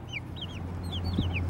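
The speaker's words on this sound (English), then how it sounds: "We think the yellow one might actually be a rooster." Chickens cluck and peep in short, repeated chirps over a steady low hum, close by and fairly quiet.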